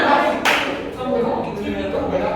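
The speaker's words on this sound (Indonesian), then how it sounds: "Tepuk tangan untuk mereka semua." Burst of hand clapping from a group, steady applause lasting a couple of seconds, fairly close and loud.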